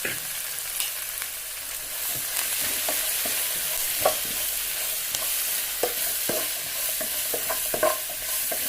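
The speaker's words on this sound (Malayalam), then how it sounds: "എണ്ണ ചൂടായിട്ടുണ്ട് ഇത് കൈപ്പങ്ങ ഞാൻ ചെറുങ്ങനെ മുറിച്ചിട്ടിട്ട് ഉള്ളിയും വെളുത്തുള്ളിയും കരിവേപ്പിൻ്റെ അലിയും" Thinly sliced bitter gourd fries in hot oil with onion, garlic and curry leaves, giving a constant close sizzle broken by frequent scraping and tapping of a stirring spoon; no voices.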